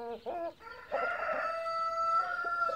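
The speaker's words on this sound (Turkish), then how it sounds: "İçeridekiler Brahma horozumuzun tavukları arkadaşlar." Brahma chickens cluck in short bursts, then a rooster lets out a long, loud crow that carries through most of the moment, close by with no talking.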